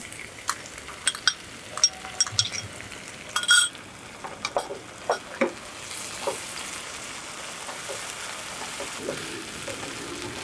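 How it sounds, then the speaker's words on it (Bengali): Ginger garlic paste hitting softened onion in a hot pan, a burst of crackling pops and clinks over the first seconds, then settling into a steady, moderate sizzle. "পেঁয়াজটা হালকা নরম হয়ে গিয়েছে, এবার আমি আদা রসুন বাটাটা দিয়ে দিচ্ছি"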